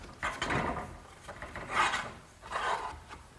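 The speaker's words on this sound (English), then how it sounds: "Now the conduit just gets slipped through the hole I drilled and through the eye bolt." Metal conduit sliding through a drilled hole and an eye bolt on a garden swing build, producing three close rasping scrapes of rubbing and grinding with short gaps between them.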